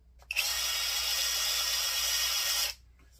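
A Litheli cordless impact wrench spins up sharply and runs at a steady high-pitched whine for a couple of seconds before cutting off, close and loud.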